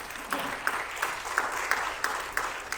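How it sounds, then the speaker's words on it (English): A church congregation claps together in a fairly even rhythm, each beat sounding as a crisp collective clap, close and moderately loud against a light room murmur. "Give them a hand clap."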